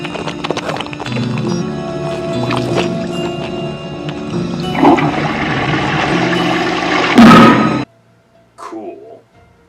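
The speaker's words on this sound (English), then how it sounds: "Alone in the bathroom, he shovels the silly putty yogurt into the toilet, giving this impressive effect." A squelching, sloshing film sound effect of silly putty yogurt being shovelled into a toilet in the 1985 horror movie The Stuff, wet and churning, ending in a final splash and then near silence with faint sounds.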